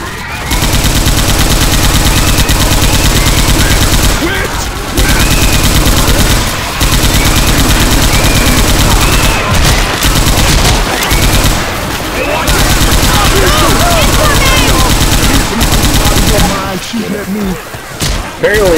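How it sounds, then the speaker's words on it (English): Sustained heavy machine gun fire from a .50 caliber weapon in the zombie shooter Left 4 Dead 2, loud and nearly continuous with brief pauses, mixed with other game sounds and occasional voices. "Apparently being shot up by 50 caliber doesn't even phase the average zombie."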